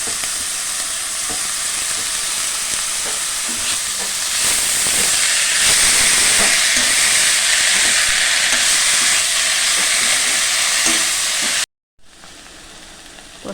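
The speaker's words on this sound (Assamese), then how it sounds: "পচলাখিনি এতিয়া ধুনীয়াকৈ ভজা হৈ গৈছে" Banana stem (pachla) fries in a pan in a traditional Assamese village-style kitchen, giving a loud, steady sizzle that runs unbroken, cuts out briefly, then returns softer.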